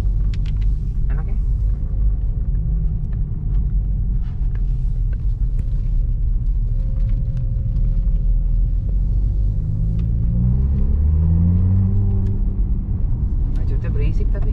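Porsche car driving forward noisily, a loud, continuous low engine rumble that stays close throughout and swells toward the end.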